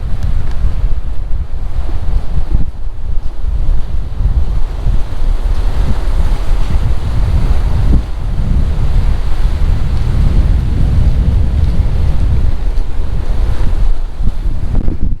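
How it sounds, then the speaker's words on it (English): Strong wind blows across an open beach, driving sand along the shore in a fog-like drift, with steady low roaring gusts and surf washing continuously nearby, loud and unbroken throughout. "You see that sand blowing across this beach? Almost like a fog."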